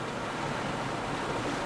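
Steady, roaring wind rushes through the open windows of a vehicle cruising uphill at about 65 miles per hour, a dense, constant broadband whoosh that drowns out everything else.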